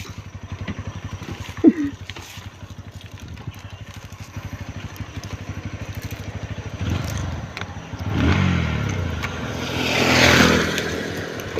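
A motorcycle engine idles with a rapid ticking putter that builds into louder revving bursts toward the end, close by, with a sharp knock near the start.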